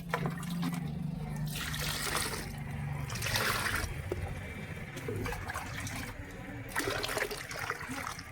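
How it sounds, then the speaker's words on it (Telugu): Water poured over cocopeat in a garden container, a steady trickling, splashing pour that runs continuously for about eight seconds, fairly close and moderately loud, with a low hum underneath and no voices. "ఇప్పుడు దీన్ని ఫుల్గా వాటర్ వేసుకుందాం."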